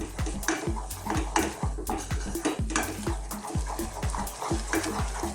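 Lasagna meat sauce cooking over a low flame in a pan, stirred continuously with a rhythmic series of scraping, clinking strokes against the pan beneath a soft sizzle; no voices.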